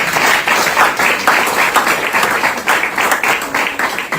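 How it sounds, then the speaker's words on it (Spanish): An audience at a literature event applauds a speaker being introduced, steady dense clapping from many hands that stays loud throughout with no voices over it. "Fuerte aplauso para Elizabeth."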